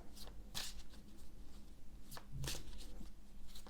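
Cards being shuffled for a card reading, a few quick riffled bursts up close and fairly quiet, with no talking.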